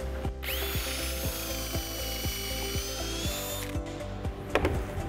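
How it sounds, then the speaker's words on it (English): A power drill bores pocket holes in wood with a rapid ratcheting, clicking mechanical rhythm and a high whine, steady and close, without speech. "We're going to drill 2 pocket holes."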